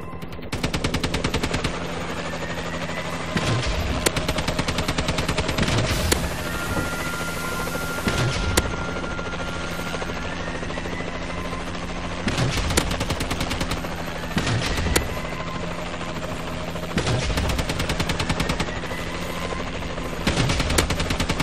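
A Warbird gunship in Call of Duty Advanced Warfare multiplayer fires repeated loud bursts of rapid gunfire over a constant droning rotor-like engine hum, the volleys coming in clusters every few seconds.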